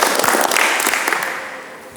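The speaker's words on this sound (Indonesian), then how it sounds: "Tepuk tangan dulu untuk kita semuanya." Students in an automotive vocational classroom clap together, a loud burst of applause that starts strong and tapers off toward the end.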